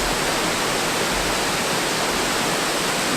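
Loud, unbroken rushing roar of Dingmans Falls, Delaware Water Gap, broad and steady throughout with no voices.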